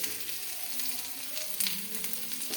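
Mustard seeds and chopped onion fry in hot oil with an even hiss and crackle at moderate level, a few small pops standing out, and no speech.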